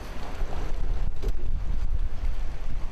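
While a boat is being maneuvered, a loud, steady low rumble mixes with rushing water and wind buffeting the microphone, with no voices.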